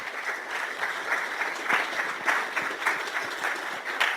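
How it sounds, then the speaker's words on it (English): An audience applauds a lecturer, Dr. Jerry Ayers, at a Workers Memorial Day lecture hosted by a student ASSP chapter. The clapping is dense and steady, with sharper individual claps rising and falling throughout, and no one speaks. "Can we give a round of applause for Dr."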